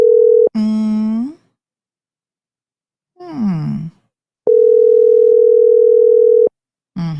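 A telephone call rings out unanswered: long steady ringback tones separated by silence, loud and close, with short vocal sighs or groans between the tones.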